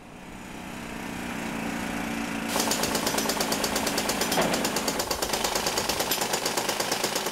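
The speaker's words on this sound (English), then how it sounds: "Lighthouse workers like machine gunners, drill bits like bullets, ripping at the base of the beacon" Drills work at the base of a historic North Carolina lighthouse: a rising mechanical drone gives way to loud, rapid machine-gun-like hammering that pulses steadily and close.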